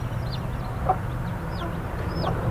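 Chickens on a poultry farm give sporadic soft clucks and thin squeaky calls over a steady low hum of farm background noise, fairly distant and faint, with no talking.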